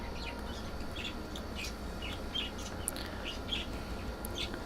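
Pet birds indoors giving short, scattered chirps and tweets over a steady low background hum, fairly faint and irregularly spaced.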